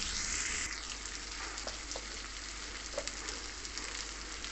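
Moong dal sizzling and frying in oil with salt and turmeric, a steady close crackling hiss with scattered small pops, alone without talk.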